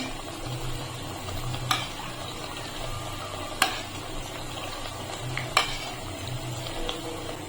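Hot oil pours over a Dhakai paratha frying in a pan, giving a steady soft sizzle with a few sharp clinks of utensils against the pan.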